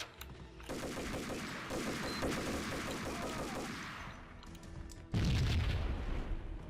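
Explosion in the video game Max Payne, a deep booming blast that lands suddenly near the end after a stretch of rapid gunfire bursts, loud and close.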